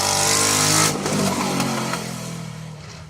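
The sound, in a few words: rally car engine without exhaust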